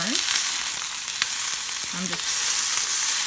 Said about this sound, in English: Keep going until it's nicely seared on all sides.